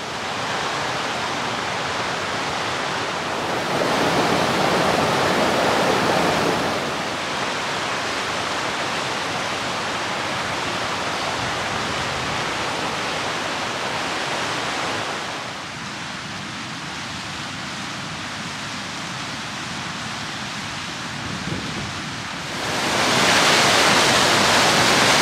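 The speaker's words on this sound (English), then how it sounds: "There's a stunning waterfall there." Steady roar of a waterfall in Scotland's Cairngorms, a broad continuous rush of falling water heard close by and alone, its loudness shifting slightly as the position changes.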